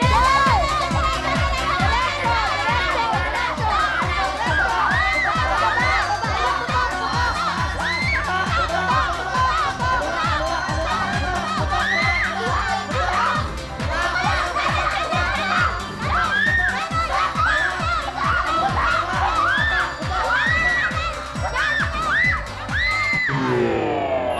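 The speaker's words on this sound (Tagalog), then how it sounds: "Nakakatuwa pa naman yung sigaw nila, oh." At an outdoor party game, a crowd of children and adults shouts and cheers continuously and loudly, excited voices overlapping throughout with occasional whoops.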